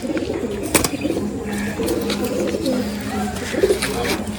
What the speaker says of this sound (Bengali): দেখো বন্ধুরা এটা নর পায়রা